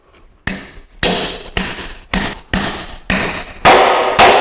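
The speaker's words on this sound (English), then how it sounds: "now we go ahead and put it into the hole and drive it in" An epoxy-coated anchor bolt for a two-post car lift is hammered into a drilled hole with about eight sharp, loud, evenly spaced blows, each ringing briefly before the next.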